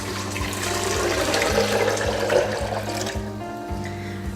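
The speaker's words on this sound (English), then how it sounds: "And then we're gonna go ahead and pour our water." Water poured over almonds in a container to make almond milk, a steady broad splashing rush lasting several seconds, close and fairly loud, tapering near the end.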